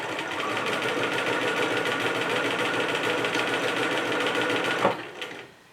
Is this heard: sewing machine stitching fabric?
yes